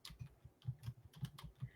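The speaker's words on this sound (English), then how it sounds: "I'm typing it into the comment section." Rapid keystrokes on a computer keyboard, close and clear, tapping in an uneven but steady rhythm of about a dozen presses in under two seconds, with no talking.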